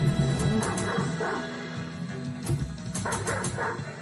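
A dog barks in short repeated bursts over a busy mix of game music and effects, the barks mid-distance and partly buried in the background sound.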